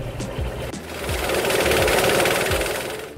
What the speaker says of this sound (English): Equipped with a powerful 14 horsepower diesel engine, this machine is ideal for chopping firewood.